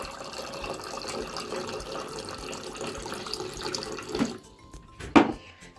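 Tap water running steadily into a cup for a child's drink in a home kitchen, a close continuous gushing stream that cuts off near the end, followed by a couple of clunks.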